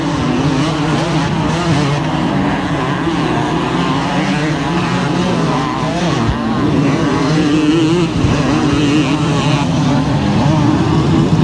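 Several 250cc motocross bikes race at full throttle at a 1987 national motocross event, a continuous dense engine roar with shifting pitch and bikes passing, loud and steady throughout.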